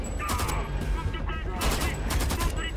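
A mounted machine gun turret fires in the shooter game Homefront. Two dense, rapid bursts of automatic gunfire sound up close, separated by a brief pause, with a faint voice in the background.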